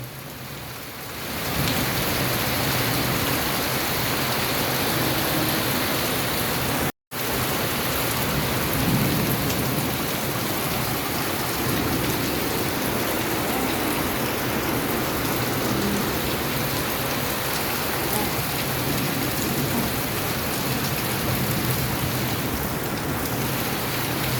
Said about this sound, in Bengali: অনেক তো রহমতের বৃষ্টি দেখা হলো